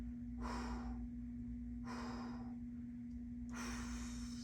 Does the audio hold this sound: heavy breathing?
yes